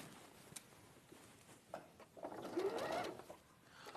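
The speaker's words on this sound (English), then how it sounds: "And then we're going to sew all the way down that side edge." A sewing machine stitches down the side edge of a fabric piece, a soft rapid mechanical whirring with a brief faster run in the middle, quiet and close, with short pauses between bursts.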